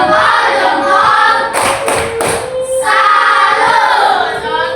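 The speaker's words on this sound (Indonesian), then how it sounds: "Tepuk salut." A classroom group gives a salute clap, a few loud unison claps in a short rhythmic pattern midway, framed by children's voices and music-like tones around it.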